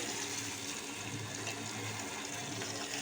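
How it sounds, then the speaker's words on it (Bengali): Water poured into a pan of cooked fish masala, a steady close splashing rush that runs unbroken and fairly loud throughout, with no voices over it. "এখন মশলা তৈরি হয়ে গিয়েছে, এবার আমি দিয়ে দেবো জল।"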